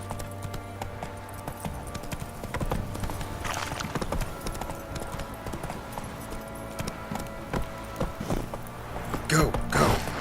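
Horse hooves clip-clop steadily in The Witcher 3: Wild Hunt as the horse is ridden, a continuous rhythmic beat under game ambience, with an occasional short neigh.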